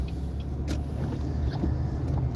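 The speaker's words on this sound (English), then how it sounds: "Okay, I'm going to pull off." A car pulls away from a parked position during rush-hour driving, heard as a steady low engine rumble and road hum from inside the vehicle, with no one talking.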